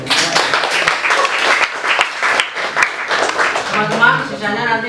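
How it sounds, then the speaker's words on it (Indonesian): Audience applause at a poetry class event, a dense wash of many hands clapping loudly and steadily, with voices and cheers mixed in toward the end. "Tepuk tangan."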